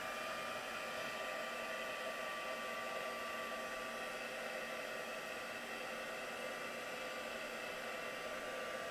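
A heat tool blows steadily to dry paint on a craft project, a constant close airy whir with a faint motor whine running unchanged the whole time, no talking over it.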